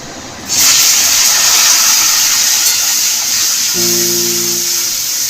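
Onion and tomato dropped into hot mustard oil with bay leaf and sugar in a kadai for Bengali mutton curry, a sudden loud, steady sizzling hiss that starts abruptly and continues strongly, with a brief tonal hum near the end.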